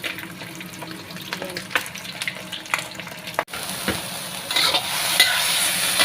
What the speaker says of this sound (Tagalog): niluluto ko na ang beans. Carrots at saka mushroom